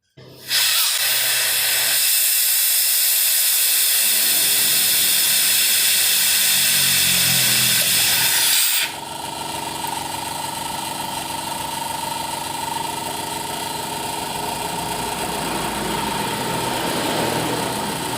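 A second-hand air compressor starts up with a loud, steady rush of hissing air, then shifts to a lower, continuous motor hum and hiss that keeps running without a break, with no talk.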